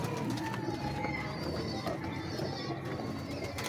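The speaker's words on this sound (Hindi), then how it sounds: "ये इमामदीन कबूतरी है" A female Imamdeen pigeon coos softly amid a busy loft, faint throaty calls under steady background noise.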